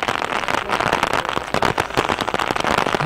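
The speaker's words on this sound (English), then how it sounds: "This will be a short-lived, I believe, downpour." Heavy rain downpour at an outdoor softball game, a dense, loud crackling patter of drops hitting surfaces that continues steadily with sharp irregular spatters throughout.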